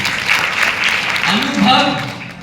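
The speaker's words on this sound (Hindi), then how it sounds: "दमदार ताली सुनील जी के लिए" Crowd applause in a Hindi-speaking seminar or talk, a steady wash of clapping at moderate level with a voice speaking over it partway through.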